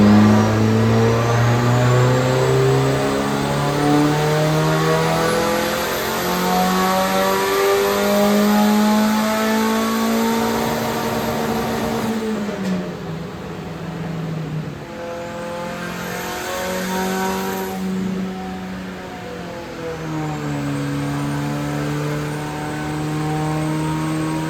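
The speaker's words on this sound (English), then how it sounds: "next up is a soft sweep of the entire rev range before we actually start producing some power" A 1.6L turbocharged Miata engine sweeps smoothly up and down its rev range on a dyno, a loud, close, continuous engine tone rising and falling with no talk.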